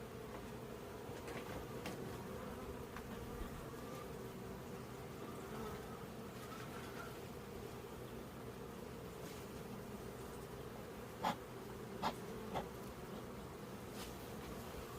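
Spring honeybees buzz around hives at an apiary in Gunsan, a steady, low-level swarm drone running throughout, with a few brief louder passes of single bees near the microphone toward the end.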